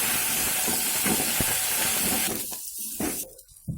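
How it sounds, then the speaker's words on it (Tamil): Thuthuvalai leaves sautéing in hot oil in a pan, a steady loud sizzle and hiss that runs continuously, then breaks up and thins toward the end as the frying settles. "நல்லா வதக்கி விட்டுருங்க."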